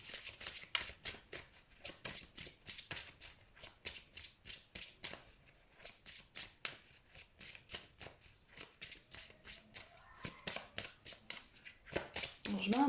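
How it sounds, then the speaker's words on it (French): Tarot cards shuffled by hand in a long run of quick, soft riffling slaps, steady and close, with a few brighter flicks near the end. "je mets un peu plus de temps dans le brassage des cartes parce que j'attends que les cartes tombent d'elles-mêmes."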